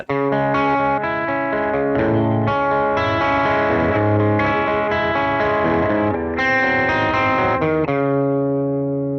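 A bluesy electric guitar tone on a Quad Cortex, Tube Screamer used as a boost with low overdrive, plays cleaner higher notes in a steady flowing phrase that ends on a long ringing note, loud with no voices.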